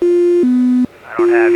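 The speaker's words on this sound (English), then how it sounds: "That's the sound of my autopilot turning off so that I can do a right 360 by hand" Autopilot disconnect tone in a Cozy MKIV light airplane cockpit: loud, steady electronic beeps in three sustained segments, the pitch stepping down then back up, with a brief gap and someone talking over it.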